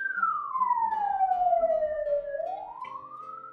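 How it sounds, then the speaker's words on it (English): An ambulance siren passing outside wails in one smooth tone that sweeps slowly down and then climbs again, fairly loud and steady with no talking over it. "Oh, an ambulance."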